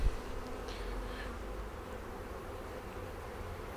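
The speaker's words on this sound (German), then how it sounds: "Das sind dann die warmläufigen Bienen hier." Warm-running honeybees droning steadily on the frames of an open Segeberger hive during a July inspection, a soft continuous buzz close by with no voices.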